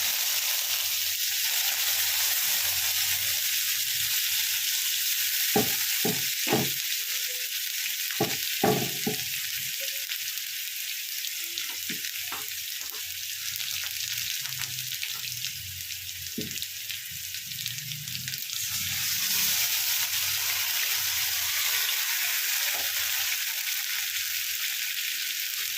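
Beet paste frying in very hot oil in a pan, a steady bright sizzle throughout with scattered low clicks and taps of stirring, fairly close and with no talking.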